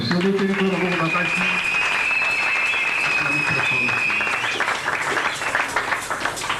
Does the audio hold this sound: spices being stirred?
no